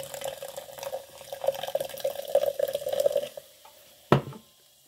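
Bang Whole Lotta Chocolata energy drink fizzing and trickling, a faint, close bubbling with a soft tonal ring that fades, then one sharp clink near the end before quiet.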